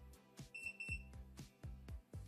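A Wylera Hair Dreamwave automatic hair curler gives a short series of clear, high electronic beeps in the middle, while repeated knocking and clicking sounds recur throughout at close range.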